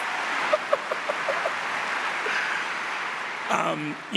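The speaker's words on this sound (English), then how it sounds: "Clap for George Saunders." Applause at a national awards ceremony for a writer, a moderate crowd clapping steadily at medium distance, with a few sharper claps early and a voice speaking near the end.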